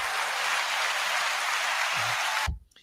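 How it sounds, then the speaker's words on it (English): A small group claps for a speaker, steady dense applause that stops abruptly near the end, followed by brief near silence. "Okay, he gets a hand clap."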